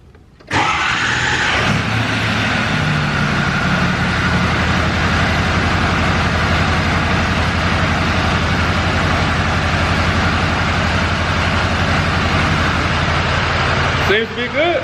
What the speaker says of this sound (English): then I'll start the truck after that